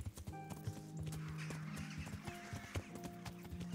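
Horse hooves clip-clop in Kingdom Come: Deliverance, a steady rhythmic trot close by, with a horse whinny and faint background game tones.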